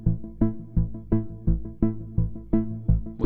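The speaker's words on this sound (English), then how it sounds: "Synth bass sound," Stock Omnisphere synth bass sounding alone in a steady repeating pattern of plucky, punchy notes, each with a sharp attack and quick decay, about three per second, moderately loud.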